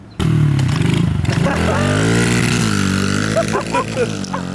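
A small pit bike engine runs close by with a loud, steady buzzing drone. Its pitch wavers and rises slightly as the throttle changes.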